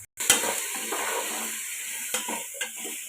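Potatoes and beans sautéing with salt in a pan, a soft steady sizzle broken by a few sharp clinks of a spoon against the pan as they are stirred.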